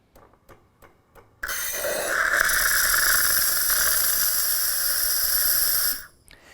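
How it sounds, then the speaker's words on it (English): A Gaggia Anima espresso machine's steam wand blasts a loud, steady hiss of steam for several seconds after a few faint clicks, then cuts off abruptly. "by pressing that aroma strength button, we were able to stop the steam dispensing process"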